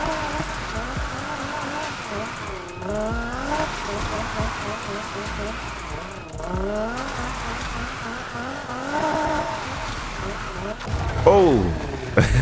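Nissan Silvia S15 drifting through long corners in the racing game Need for Speed, engine revving and rising and falling steadily with tire squeal throughout, a sharp high-pitched screech near the end, with talk over it.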